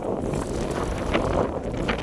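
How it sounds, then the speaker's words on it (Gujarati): Wind off the sea buffets the microphone by a seaside jetty, a constant rough roar with slight gusty swells and no voices. "પવન તો જો"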